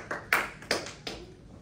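Students in a French classroom clap briefly, four sparse and distinct claps close by.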